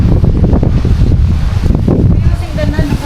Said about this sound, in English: Well, I wouldn't call it a storm, it's just windy.